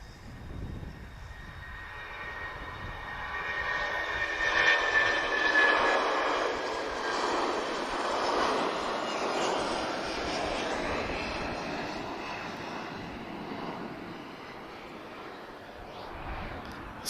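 Boeing jet with Rolls-Royce RB211 engines taking off at Lisbon Airport, a distant broad jet roar swelling to a peak midway and then holding steady before slowly fading, heard alone without talk.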